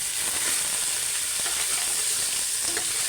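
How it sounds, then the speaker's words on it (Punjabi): Cumin, onion and green chili fry in a pan in a home kitchen, producing a loud, even, close-up sizzle with light stirring scrapes throughout and no talking. "ਹੁਣ ਇਹ ਭੁੰਨ ਲਾਂਗੇ ਹਲਕਾ ਹਲਕਾ ਬਰਾਊਨ ਜਿਹਾ ਨੂੰ ਭੁੰਨ ਲਾਂਗੇ"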